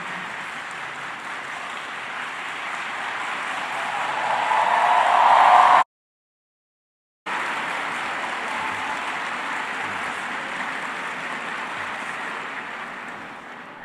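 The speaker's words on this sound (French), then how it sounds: "Applaudissons chaleureusement notre président." An audience at a university graduation ceremony applauds President Jean-Bertrand Aristide in a dense, continuous wash of clapping that swells, cuts out briefly, then carries on steadily with no voices.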